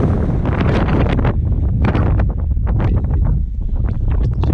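Strong wind buffets the microphone on a mountain summit, a loud continuous roaring rumble with gusty surges throughout.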